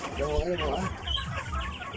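Chickens cluck and squawk repeatedly amid a busy, noisy background, with people talking nearby throughout.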